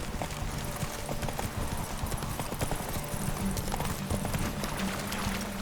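Geralt's horse Roach gallops in The Witcher 3, her hooves drumming a fast, continuous clip-clop rhythm up close over a steady bed of game ambience, with no speech.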